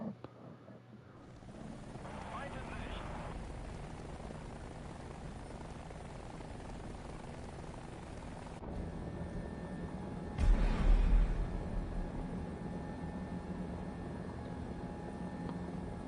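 A propeller aircraft engine drones steadily in the War Thunder video game during a test flight, a continuous loud hum that surges briefly louder midway and then settles back, with no talk over it.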